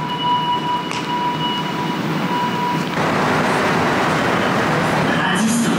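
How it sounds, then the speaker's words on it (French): A Montreal metro train runs underground with a loud, steady rolling roar and rattle, high tonal whines early on giving way to a louder rush of wheels and air, with some voices faintly present. "on vient de finir notre ride de métro"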